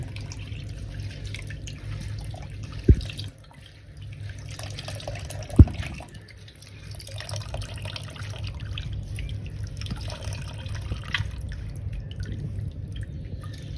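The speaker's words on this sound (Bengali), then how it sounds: "তরমুজের পালগুলোকে আমি একটা ছাঁকনির মধ্যে নিয়ে এরকম চেপে চেপে রসটাকে বার করে নেব" Watermelon juice drips and trickles steadily as pulp is pressed through a strainer, a soft liquid patter close by with two sharp clicks or taps early on.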